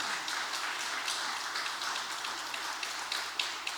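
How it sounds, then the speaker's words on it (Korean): A church congregation at a Sunday service claps in a soft, steady patter of applause, heard at a distance and fairly faint throughout. "박수 한번 해주시죠"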